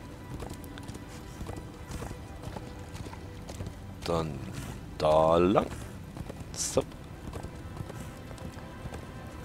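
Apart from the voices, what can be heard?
horse hooves galloping, from video game Darksiders 2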